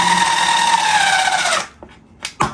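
A power screwdriver drives a screw to fix a leg onto an ergonomic chair, a loud whirring buzz that falls in pitch and stops, followed by a couple of brief clicks and knocks.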